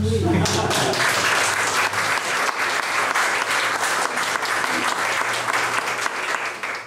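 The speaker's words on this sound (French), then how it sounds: "je voudrais qu'on applaudisse son art" Audience applause at a community tribute, steady, full clapping from a crowded room that swells after a moment and continues, with a low hum underneath.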